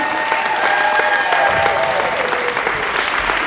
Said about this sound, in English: give all of our contestants a round of applause as they come back out tonight